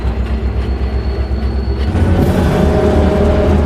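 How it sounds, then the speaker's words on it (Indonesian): An unmanned train rolls along the track in an action film scene, a loud continuous rumble of wheels and carriages with faint rail squeal, swelling slightly as it passes close. "dia melihat ada kereta berjalan dari lawan arah yang sepertinya tanpa awak"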